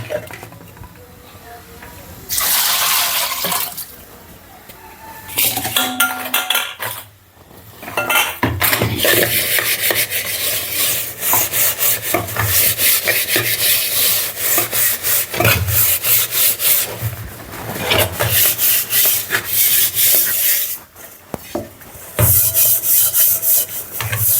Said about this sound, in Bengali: এগুলো ডলে ডলে না মাজলে পরিষ্কার হবে না